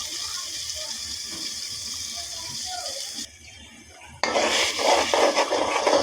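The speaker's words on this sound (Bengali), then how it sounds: "মরিচ কষাতে দিয়ে দিলাম" Chilies being sautéed in a pan, a close sizzle with stirring scrapes that drops out briefly before returning louder, with a voice briefly present in the background.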